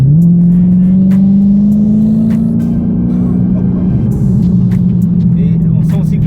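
A 2016 Dodge Challenger Hellcat driving along a winding road, its engine a loud, steady close-up drone that swells slightly as it pulls, with a voice talking over it.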